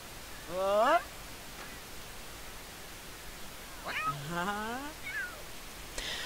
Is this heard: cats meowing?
yes